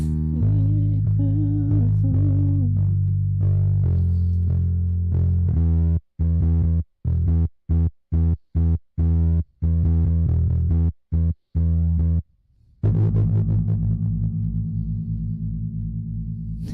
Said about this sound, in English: That sounds pretty cool with that distortion.